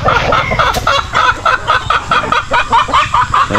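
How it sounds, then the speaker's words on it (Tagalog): Free-range chickens on a farm cluck loudly and close by in rapid, repeated bursts, several birds overlapping in a busy rhythmic chorus. "So ito yung mga naka free range na pinapakawalan natin mga manok."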